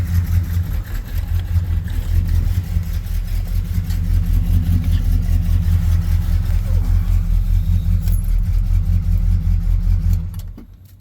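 Car engine running close by with a steady, loud mid-pitched drone and slight revving, then cutting off abruptly near the end and fading to quiet.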